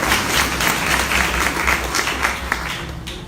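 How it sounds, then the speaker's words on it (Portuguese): A full crowd applauds at a political rally during a land and territory seminar in Brazil, making dense, continuous clapping at a steady, fairly loud level for a few seconds with no clear talk. "Uma salva de palmas a todos os companheiros e companheiras presentes"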